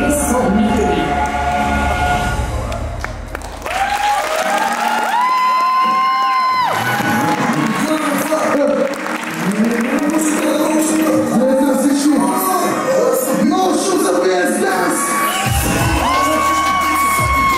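A live crowd at a street dance show roars and cheers for dancers taking the stage, with shouts and whoops rising over loud music and an announcer's amplified voice throughout.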